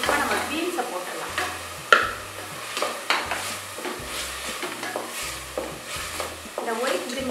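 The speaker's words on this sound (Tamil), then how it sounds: "இப்போ நம்ம பீன்ஸை போட்டுடலாம்." Beans stir-fried in a pan for vegetable white brinji rice, a spatula scraping and tossing them in steady strokes over a continuous sizzle, with occasional sharper clinks against the pan.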